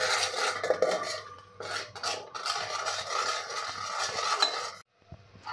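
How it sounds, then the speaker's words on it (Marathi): A spoon scrapes and clinks in a metal pan, mixing turmeric, coriander and chili powder for a chicken curry, with rhythmic scraping strokes close up and a brief pause near the end. "आता हे सगळं आपल्याला मिक्स करून घ्यायचं आहे."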